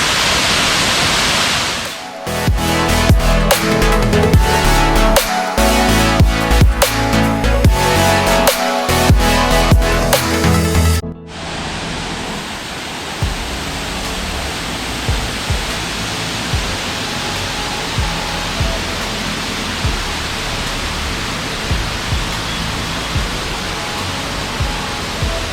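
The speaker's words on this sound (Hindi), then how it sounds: "ये वाटरफॉल है।" Waterfall near Gangtok, Sikkim, roaring as a loud, continuous broadband rush of falling water, constant throughout with no voices over it.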